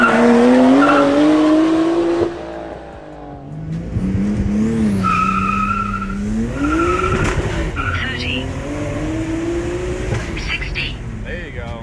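Nissan Skyline and Pontiac Solstice launching side by side at a drag strip, tires squealing in sustained rising and falling tones over loud revving engines, with talk layered on top.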